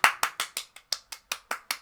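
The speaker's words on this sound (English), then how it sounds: "Everybody clap." About ten separate claps in a steady, evenly spaced rhythm, sharp and close, from someone in a small group clapping alone with no talk over it.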